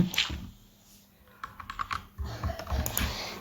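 Computer keyboard typing in quick irregular bursts of clicks and key taps, close by, with a brief pause near the start before the tapping picks up again.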